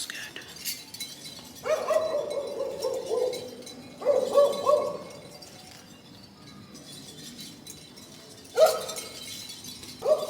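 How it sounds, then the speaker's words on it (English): A dog barks outdoors at a distance in Albania, with a few short bursts of barking spaced out over the stretch, fairly faint against background ambience, while a person speaks nearby. "there's a dog barking"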